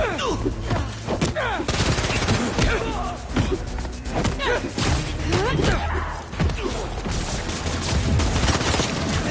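Video-game gunfire from Spider-Man 2, with loud bursts of shots mixed with heavy thuds, slams and impacts in a busy combat scene, while voices call out over the chaos.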